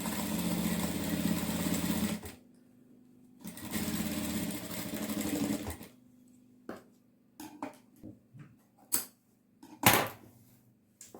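Two loud, close bursts of a sewing machine stitching piping onto a silk saree blouse, each about two seconds long and separated by a pause, then quieter handling clicks and taps.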